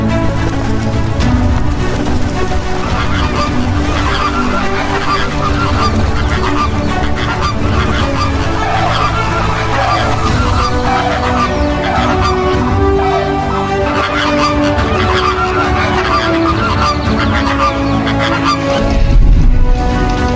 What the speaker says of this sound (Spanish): Flamencos esbeltos y brillantes tiñen de rojo los humedales.